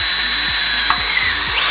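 A power drill bores out a broken bolt in an aluminium engine, giving a loud, continuous high-pitched whine close up with slight pulsing, and no talking.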